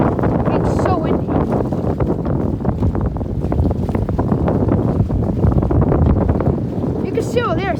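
Strong wind gusts roar across a microphone on a beach dock during a windstorm, a loud continuous buffeting with people talking over it throughout.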